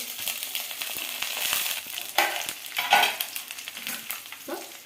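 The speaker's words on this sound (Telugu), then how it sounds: "ఒట్టిమిరపకాయలు, తెల్లగడ్డలు, మిరియాలు, చెక్క, లవంగాలు, కొబ్బరి ఇవంతా నూనెలో వేసుకునేది." Dried red chillies, garlic, pepper, cinnamon, cloves and coconut sizzle in hot oil for a chicken dish, a close frying hiss broken by a few clattering stirs of a utensil against the pan.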